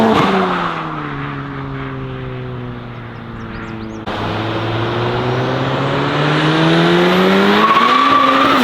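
A 700-horsepower Volkswagen MK7 GTI slides sideways with its engine droning loudly and steadily, the revs sagging then climbing again as tires hiss and squeal throughout, heard close and continuous with no talking.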